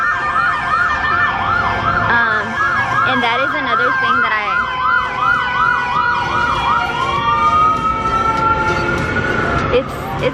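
An ambulance siren wails in rapid rising-and-falling cycles, loud and close, then shifts to a long sliding tone as it passes, with a voice talking over it and traffic rumbling underneath.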